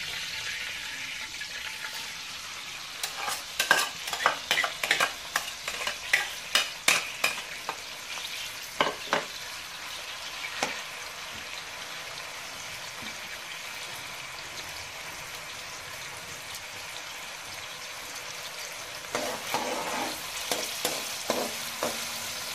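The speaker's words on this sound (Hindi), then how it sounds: "और तो प्याज की बुनाई करेंगे अच्छे से" Onions frying in a pan make a constant soft hiss, broken by bursts of scraping stir clicks early on and again toward the end.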